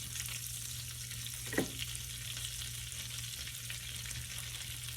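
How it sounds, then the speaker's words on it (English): Butter melting in a pan for a Cajun salmon pasta sauce gives a steady, fairly quiet frying hiss throughout, with a single brief clink or scrape partway through and no voices. "our butter has melted"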